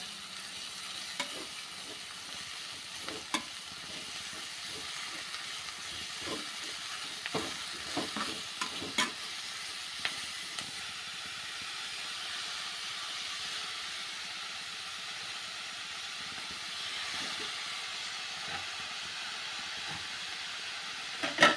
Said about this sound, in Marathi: आता ही छान आपण परतून घेऊया